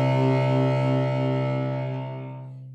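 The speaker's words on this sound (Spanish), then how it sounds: "El siguiente, molto sul ponticello." Cello bowed molto sul ponticello, right at the bridge, gives a single sustained note with a glassy, buzzy, harmonic-rich tone that fades gently over about three seconds, close and alone.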